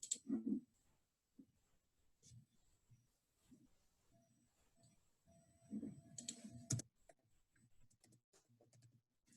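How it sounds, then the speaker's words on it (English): Bursts of typing on a computer keyboard, keystrokes clicking in short quick runs separated by pauses, close and fairly quiet, with no talking. "So you can see I'm just typing in"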